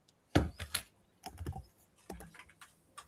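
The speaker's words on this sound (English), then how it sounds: "I heard some typing then." Keys on a computer keyboard clatter in short, irregular bursts of typing, fairly faint and close, with brief pauses between clusters of keystrokes.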